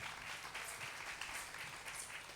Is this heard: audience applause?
yes